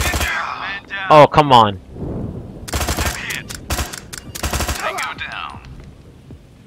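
Light machine gun fire in the tactical game Door Kickers: several short, sharp bursts of rapid shots separated by brief pauses, with someone speaking just before the firing starts.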